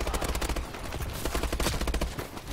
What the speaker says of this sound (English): they're just all shooting me